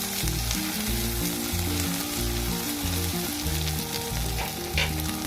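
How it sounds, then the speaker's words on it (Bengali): Thick-cut onions frying lightly in white oil in a wok, a continuous bright sizzle with no voices, while a steady rhythmic tonal pattern runs underneath. "কেটে তেলের মধ্যে দিয়ে দিলাম। এবার হালকা করে ভেজে নেব,"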